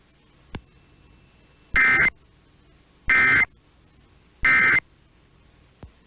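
Emergency Alert System test attention tones, three loud evenly spaced electronic beeps, each about a third of a second long, with faint clicks before and after.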